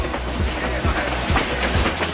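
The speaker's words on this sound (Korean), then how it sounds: "드디어 열차가 출발합니다." Passenger train rolling through Myanmar, its wheels knocking over rail joints in a steady, loud clickety-clack with low rhythmic thumps and constant rumble.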